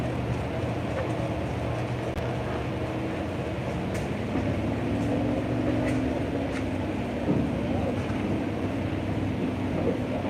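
Tractor fitted with a small 289 Ford engine driving in a steam pageant parade in Canandaigua, New York, a steady low engine rumble that swells slightly as it passes, with faint voices and crowd noise around.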